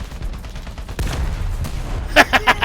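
Tank gunfire in the video game War Thunder: a heavy blast followed by a rumbling tail, then a quick volley of several sharp shots near the end.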